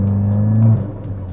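MK6 Volkswagen GTI with a CTS Turbo downpipe revving high around 5,000 RPM, a raspy steady engine note that drops off near the end of the short burst, close and loud without speech.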